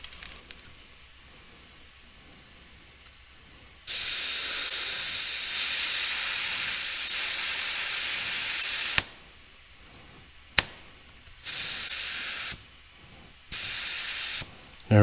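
Air hisses out of a tire valve in loud, steady bursts: one long release of about five seconds, then several shorter spurts with brief pauses between them.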